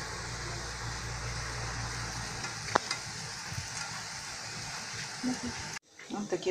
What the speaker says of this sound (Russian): Жарим!